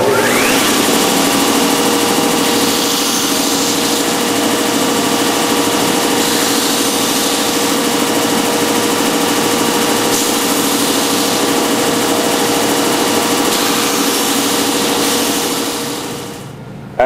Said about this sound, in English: Don't push too hard because the sander takes it off really fast.